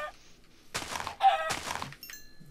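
A chicken in the Minecraft video game on PS4 clucks in short bursts, mixed with blocky thunking game sounds. No one speaks.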